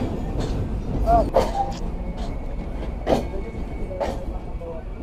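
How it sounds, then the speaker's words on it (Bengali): The Kapotaksha intercity express rumbles into Jessore railway junction station in the evening, with clanks and a few sharp knocks over a steady roar, and voices in the background. "আন্তনগর কপোতাক্ষ এক্সপ্রেস প্রবেশ করছে যশোর রেলওয়ে জংশন স্টেশনে"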